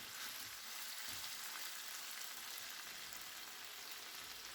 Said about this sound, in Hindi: आठ से 10 मिनट तक चिकन को पका लेंगे।